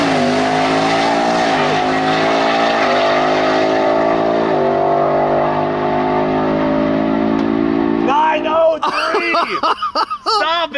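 A supercharged 427 GMC truck roars through a burnout, its loud engine holding a high rev before breaking into squealing tire noise and choppy bursts near the end.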